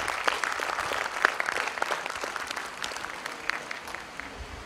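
Audience of students applauding at a career counselling session, brisk dense clapping from a sizable crowd sustained steadily for several seconds.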